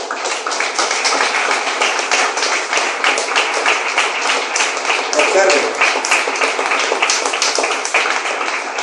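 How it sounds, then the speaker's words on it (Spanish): Church congregation clapping during a sermon, brisk rhythmic clapping from many hands, loud and close, continuing steadily with a brief spoken word heard partway through. "Brindan un fuerte aplauso al Señor."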